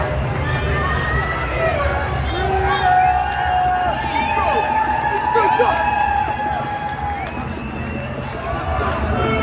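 A large outdoor crowd of protesters in London against masks and lockdown, with shouting, whistles and a steady babble of voices, continuous and fairly loud.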